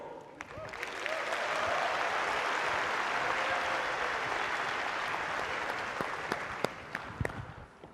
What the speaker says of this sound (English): How about another round of applause for Herman and the guys from Guerrilla Games